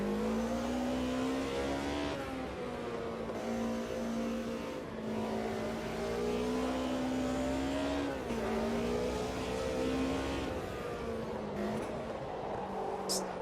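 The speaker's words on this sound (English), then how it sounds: "Oh, this thing sings. I love the sound of this car." A race car with an H-pattern gearbox, driven in the Automobilista 2 racing game, holds a continuous loud engine note that rises through the revs, dips at each gear change, and climbs again.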